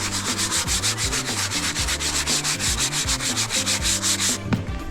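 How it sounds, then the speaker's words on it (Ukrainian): A brush scrubs the interior plastic of a BMW F30 in quick, steady back-and-forth strokes, loud and close, a rhythmic rasping that stops near the end, with no talking. "І починаємо намивати."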